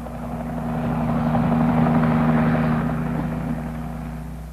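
A military helicopter's rotor drones steadily, swelling slightly as it passes nearby and then fading a little, with no voices.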